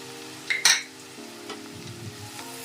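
Ginger and garlic fry in a pan under a faint sizzle, with a sharp metallic clink of the stirring utensil early on, then quiet low stirring sounds.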